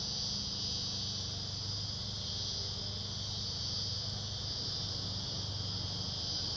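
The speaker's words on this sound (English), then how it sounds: "I can hear the cicadas now." A loud, unbroken cicada chorus buzzes steadily outdoors, a single sustained shrill drone with no voices over it.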